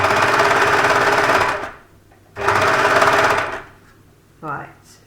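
An overlocker serger stitching a cardigan, running in two loud rapid whirring bursts of about two seconds each, separated by pauses, ending with a brief shorter run.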